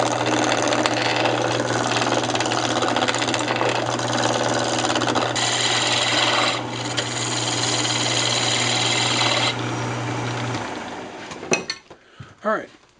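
Wood lathe spinning as a spindle blank for a Christmas ornament is trued up in a chuck, a steady motor hum with broadband cutting noise for about ten seconds, then spinning down with a few faint knocks at the end.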